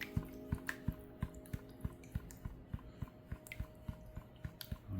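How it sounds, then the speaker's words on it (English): A gold pan is slammed repeatedly against a hand while panning, producing a steady series of about seventeen soft, evenly spaced thumps with faint wet sloshing, quiet and close. "slam the pan into my hand, and that forces all the heaviest things in my pan to go to one side"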